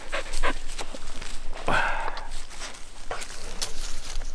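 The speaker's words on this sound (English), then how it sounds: "Muddy dog." A muddy dog panting after a hike at a wild campsite in the Kebnekaise area of Swedish Lapland, with quick, breathy pants close by and a brief whimper-like sound partway through.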